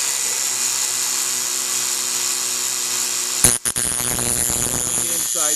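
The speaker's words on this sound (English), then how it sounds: "This sharpens drill bits like there's no tomorrow" Dremel rotary tool grinding a drill bit to sharpen it, a steady high whine throughout that gives way to rougher, broken grinding contact near the end.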